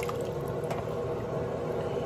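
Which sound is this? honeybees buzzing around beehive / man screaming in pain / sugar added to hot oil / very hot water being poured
very hot water being poured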